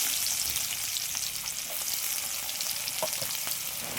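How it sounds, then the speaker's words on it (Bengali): Chopped onion fries in hot oil left from frying potatoes, a steady, close crackling sizzle with occasional light scrapes, heard alone with no voices. "এই তেলের মধ্যে দিয়ে দিচ্ছি পেঁয়াজ কুচি"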